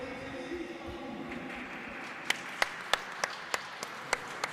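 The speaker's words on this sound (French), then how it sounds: "On entend ce public en feu." A crowd at a cesta punta final in Berriatua roars in a hall, a loud wash of voices that breaks into distinct rhythmic claps in the second half.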